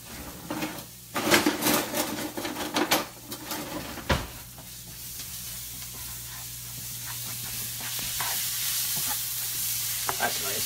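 Thick-cut bacon, garlic and basil sizzle in a pan while a utensil stirs and scrapes, first in a burst of clatter and then as a steady, close hiss that holds to the end.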